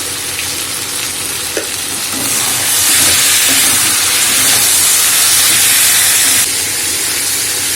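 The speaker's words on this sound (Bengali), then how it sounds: "আমি মশলার সাথে এঁচোড় আর আলু খুব ভালো করে কষিয়ে নিয়েছি।" Green jackfruit and potato curry fries with spices in a pan, making a continuous, loud sizzle and hiss that swells slightly midway and is joined by occasional stirring sounds.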